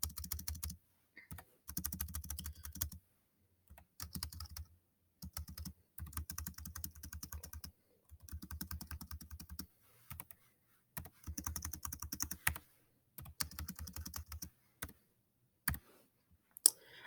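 Bursts of typing on a computer keyboard, quick clusters of key clicks separated by short silences, close and fairly quiet, with no voice.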